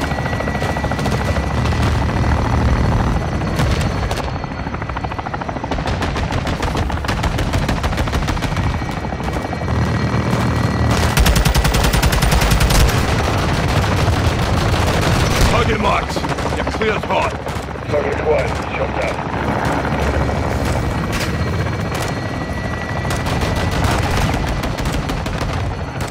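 Air support opens fire in Call of Duty: Modern Warfare 2. A helicopter drone thunders continuously under sustained bursts of heavy machine-gun fire and explosions, loud and dense for the whole stretch.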